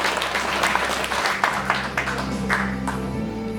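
Applause at a book launch event, a crowd clapping steadily and fairly loudly from start to finish, with a faint voice over it.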